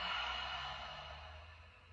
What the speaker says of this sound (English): One open mouth exhale together.